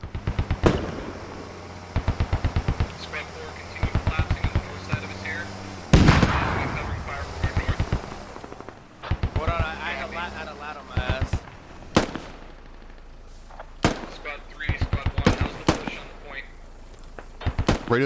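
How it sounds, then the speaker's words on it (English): Gunfire in the military shooter Squad, sharp rifle cracks in rapid bursts and scattered single shots, some near and loud, others distant, with voices talking between the volleys. "Getting shot from the west, I think."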